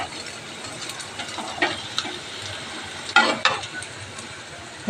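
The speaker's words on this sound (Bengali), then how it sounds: "আর এই যে ভাজছি।" Leaf fritters coated in rice flour and white sesame fry in oil in a wok on a gas stove, giving a constant close sizzle with occasional stirring scrapes and brief louder crackles.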